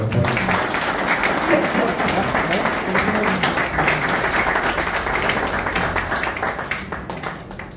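An audience applauds during a felicitation ceremony, with continuous dense clapping from a crowd that stays steady throughout, some voices faintly mixed underneath.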